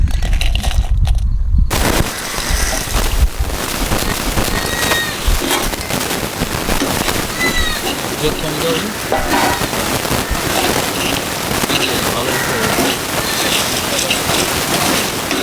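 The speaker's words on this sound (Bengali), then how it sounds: "সব মশলাগুলো ভেজে নিচ্ছি" Spices dry-frying in a clay pot for a spicy chicken dish: after a brief quieter start, a loud, close, dense crackling sizzle with rapid popping like rain or firecrackers carries on steadily to the end.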